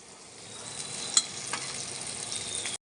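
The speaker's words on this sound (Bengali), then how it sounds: "আমরা হচ্ছে তেলাপিয়া মাছ ভাজি করতেছি" Tilapia fish frying in a pan gives a steady, close sizzle with a couple of sharper pops before the sound cuts off abruptly.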